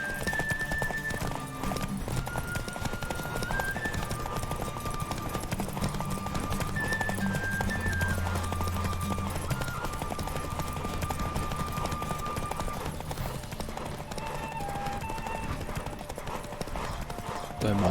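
Roach, Geralt's horse in The Witcher 3, gallops through a derby race with steady rapid clip-clop hoofbeats and an occasional whinny, over continuous game music and crowd ambience for the whole stretch.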